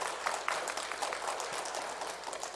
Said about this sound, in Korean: 우리 주님께 영광의 박수, 마지못해서 이렇게 물개 박수가 아니라 큰 박수로